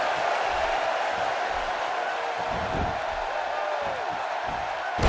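Arena crowd noise from the wrestling video game WWE 2K17, a Kofi Kingston versus John Cena match, a steady loud roar of spectators with a few thuds and a brief swell at the end.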